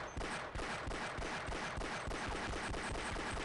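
Rapid bursts of Glock 17 pistol fire in the video game Half-Life ring out in a fast, almost continuous string of loud, closely spaced shots with no talk.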